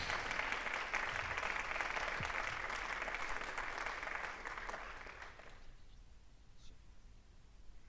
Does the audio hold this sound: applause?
yes